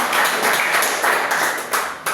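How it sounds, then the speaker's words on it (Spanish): Loud crowd applause at a church service, dense rapid clapping from many hands sustained throughout, with a few sharper claps standing out. "Denle un fuerte aplauso"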